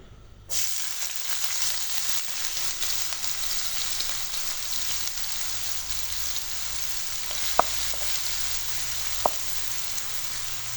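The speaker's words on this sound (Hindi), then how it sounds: "प्याज हम तकरीबन 2 से 3 मिनट तक घी में फ्राई करेंगे।" Chopped medium onion frying in hot ghee in a frying pan, a steady close sizzle with faint crackles that runs without pause after a brief quiet start.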